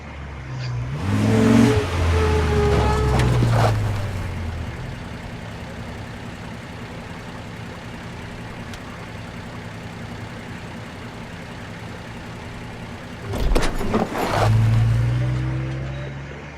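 A car in the video game Life is Strange revs and drives, with engine surges near the start and again near the end framing a long stretch of steady low rumble; no talk.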